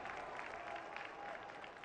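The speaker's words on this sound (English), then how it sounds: "He gets a nice round of applause." A stadium crowd at a Rio Grande Valley FC vs. Austin Bold FC soccer match claps steadily in the distance, a faint, continuous patter of applause with a thin hum running beneath it.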